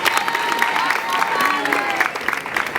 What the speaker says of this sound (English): Let us also clap for them, please.